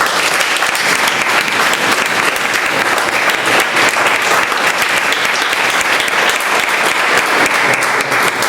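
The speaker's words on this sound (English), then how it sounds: "good round of applause for all of you" A full house at a Toastmasters meeting breaks into loud, continuous applause for the guests, dense clapping filling the room without letup.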